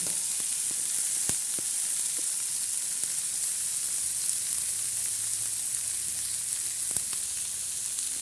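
Garlic, green chilies and raw peanuts roast in a pan, a steady close sizzle with scattered sharp pops and stirring clicks throughout.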